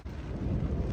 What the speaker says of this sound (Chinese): 又打雷了